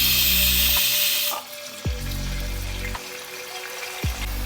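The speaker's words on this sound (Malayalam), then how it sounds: "ഓയിൽ നന്നായി ചൂടായിട്ടുണ്ട്. അപ്പോൾ ഇതിലോട്ട് ചോപ്പ് ചെയ്ത് വെച്ച അനിയൻസ് ആഡ് ചെയ്യുവാണ്." Chopped onions go into well-heated oil and start to sizzle loudly and steadily. A few clinks and scrapes of utensils sound over the frying.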